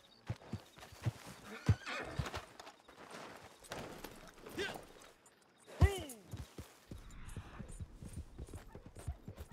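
Horse in the video game Red Dead Redemption 2 gives a loud whinny midway, while hooves clip-clop in uneven runs throughout and someone talks faintly at times.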